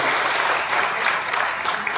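A short burst of steady clapping from an audience at a hospital facility inauguration, applauding an oncology team doctor, dense and close throughout.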